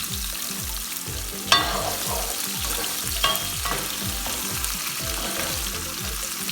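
Onions and a sliced potato fry in a pan on very high heat, a steady loud sizzle with a couple of sharp utensil clinks against the pan.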